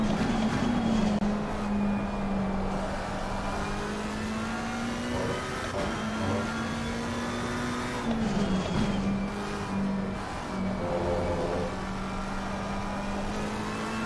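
A Ferrari race car engine in Assetto Corsa Competizione at SimGrid's Watkins Glen race holds a steady high drone, shifting pitch through gear changes and braking dips, with faint tire squeal, loud and continuous.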